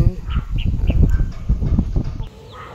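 Chickens in a backyard coop in the Philippines give several short clucks and calls, fairly close and mixed with low rustling background noise, fading quieter toward the end.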